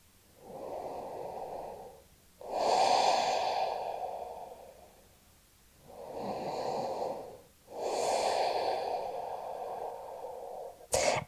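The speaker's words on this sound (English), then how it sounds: "And breathe." Slow, deep breaths during a vinyasa yoga flow: four long, airy inhales and exhales separated by short silences, close and soft, ending with a brief rustle.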